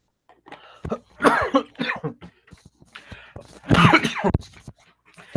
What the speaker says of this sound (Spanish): Tengo una tosecita que no se me quita hace rato.